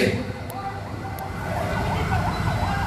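Ambulance siren on a road during a student road blockade, a wailing rising-and-falling tone that swells louder as the vehicle approaches, with traffic rumble and crowd voices beneath.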